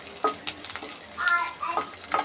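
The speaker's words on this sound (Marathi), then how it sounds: "कढीपत्ता, हिंग, छानपैकी याला मी परतून घेणार आहे." Curry leaves and asafoetida sauté in hot oil in a pan for mung dal khichdi, with crackling sizzle and scraping stirs in short bursts at close range.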